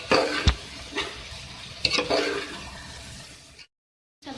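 A spoon works through a pan of potato and cauliflower sabzi with fresh green coriander, making several close scraping, clattering stirs over a soft sizzle, then stopping in brief silence before one last scrape.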